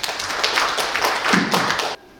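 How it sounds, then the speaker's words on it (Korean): Applause from a seated audience at the founding ceremony of a Korean ESG forum, welcoming a speaker who is about to give a progress report; dense, steady clapping for about two seconds, then it cuts off abruptly. "큰 박수로 맞이해 주시기 바랍니다"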